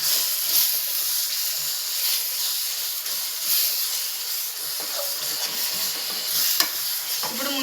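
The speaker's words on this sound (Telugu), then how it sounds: "కొత్తిమీర వేసి కొంచెం కలుపుకుందాము" Coriander leaves stirred into a simmering pomfret fish curry: a steady, close sizzling hiss with soft scraping stir strokes scattered throughout, and no voices.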